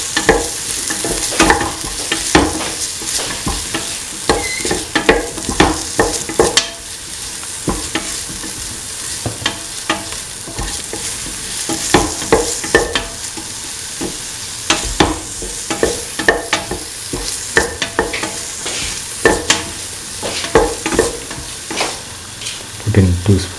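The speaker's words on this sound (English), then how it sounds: "Keep on sauteing." A potato and chickpea stew mixture sautés in a pan. A steady loud sizzle runs under repeated scraping strokes of a spoon against the pan throughout.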